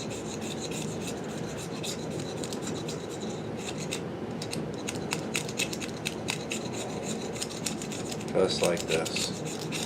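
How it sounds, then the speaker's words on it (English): Close, continuous raspy scraping of excess plastic and glue off an arrow shaft during fletching, a steady rubbing texture with a few louder strokes near the end and a brief spoken remark. "scrape the excess plastic, glue,"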